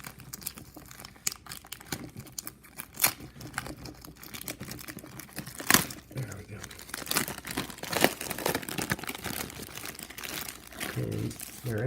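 Packing tape and wrapping torn and crinkled off a mail package of vintage 1923 hockey cards, with irregular ripping bursts and crackles close by, mixed with quiet talk.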